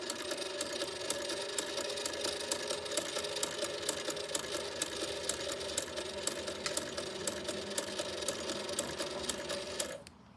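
An Edison Home phonograph mechanism running on its pulley gives a steady, close mechanical whir with fast regular ticking, which stops abruptly at the end.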